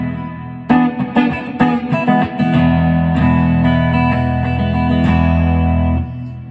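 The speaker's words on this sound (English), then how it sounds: "So I'm just going to put on a little plate reverb with the" A clean electric guitar through a Fender Showman tube amp with a UAFX Golden plate reverb plays a quick run of picked notes, then a chord that rings out with a smooth, lingering reverb tail before cutting off.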